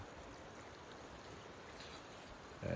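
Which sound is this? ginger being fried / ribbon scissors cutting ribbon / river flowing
river flowing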